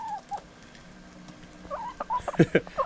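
Chickens squabble over food thrown to them, giving short clucks and squawks that grow busier toward the end, close by in a quiet yard.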